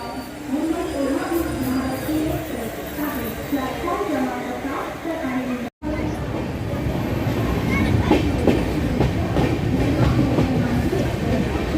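The Mahalakshmi Express rolls into Thane station with a steady rail rumble and wheel clatter that grows fuller in the second half, while a voice carries over the first part.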